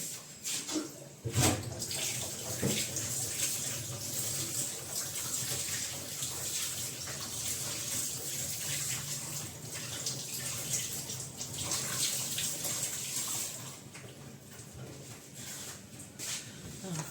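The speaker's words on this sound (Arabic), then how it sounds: "بس كده اغسل ايدي" Tap water runs steadily while hands are washed under it at a kitchen sink during home baking, a continuous close rushing splash for the whole stretch with no talking.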